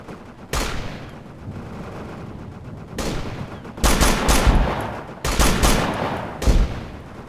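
Artillery barrage in Operation Flashpoint: Dragon Rising, with loud booming shell impacts arriving in several heavy bursts, including a single blast, then overlapping clusters of explosions and rumbling that fill the stretch.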